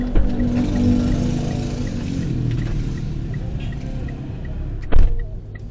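A taxi-style car pulls away on a narrow street at night, a steady low engine drone holding close for several seconds before a brief louder thump near the end.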